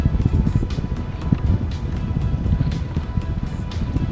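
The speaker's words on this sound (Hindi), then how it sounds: "तेज़ हवा और बारिश भी स्टार्ट हो गई है" Strong gusting wind with rain buffets the microphone at a high rope bridge near Hussaini village, a dense, steady roar of broadband noise with flapping bursts throughout and no talk.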